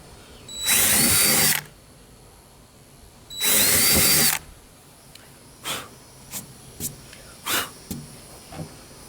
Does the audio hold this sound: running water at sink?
no